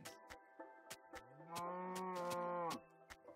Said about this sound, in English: Shut up, cow.